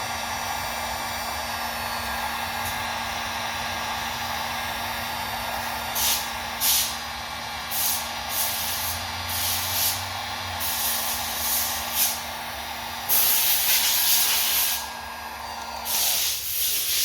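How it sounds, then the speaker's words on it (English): A heat gun blows a steady, loud airflow hiss while shrinking heat-shrink tubing during a throttle kit install on an Echo string trimmer, with brief surges and pauses in the blowing and no talking. "Then use your heat gun and shrink those two down."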